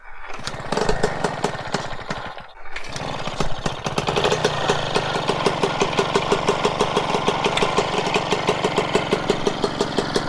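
A Vespa Piaggio Ciao 65cc moped with an aftermarket Tecno Circuit exhaust idles with a rapid, ticking rattle and a raspy exhaust note, steady and close after a brief sputtering start.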